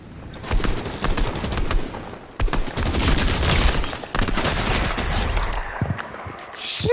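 Burst-fire gun shots in a Fortnite free-for-all match, loud and dense: rapid volleys of cracks run almost continuously, with a short gap near the middle and a brief lull before the end.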